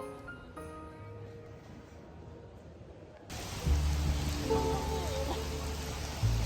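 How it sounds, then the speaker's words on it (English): Steady rain falls outside, a dense even hiss that starts soft and distant, then turns louder and closer partway through, with faint background tones beneath and no voices. "And boy, it was still raining."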